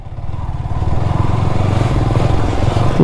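Motorcycle ridden along a new, thickly dusty and slippery road, its engine droning steadily and close with a low throbbing rumble and a faint rattle, growing slightly louder after the opening, with no talking.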